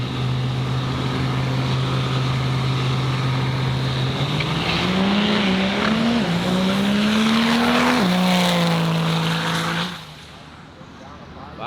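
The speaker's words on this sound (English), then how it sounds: "watching some race trucks go down the track" Diesel race truck powering down a drag racing strip, its loud engine drone holding steady then rising in pitch as it accelerates away, fading sharply near the end, with crowd or commentary voices faintly underneath.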